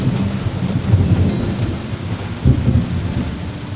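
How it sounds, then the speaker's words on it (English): A June thunderstorm: heavy rain pours down steadily while low thunder rumbles swell through, with a stronger rolling burst near the end, close and loud with no voices. "The first thunderstorm in June is called the Loggerhead Storm."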